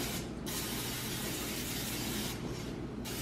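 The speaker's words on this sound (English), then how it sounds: "And we're just gonna spray them really good." A long, close hissing blast of cooking oil spray onto tortillas, followed by a second short burst near the end.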